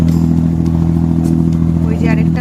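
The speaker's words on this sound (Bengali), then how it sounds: "এটাকে দুবাইতে আরবা বোট বলে, লোক পারাপার হয় এতে।" A diesel engine drones steadily aboard an abra ferry boat crossing Dubai Creek, a loud, continuous low hum with faint voices in the background.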